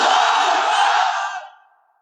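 A large crowd at a religious gathering shouts takbir together in one loud, sustained roar that fades out over the final half second.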